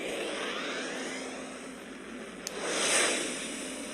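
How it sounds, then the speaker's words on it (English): Warp engine in the space game Second Galaxy, a steady broad airy roar like a distant aircraft that swells louder near the end, with a brief click partway through. "Auto combat starting warp engine."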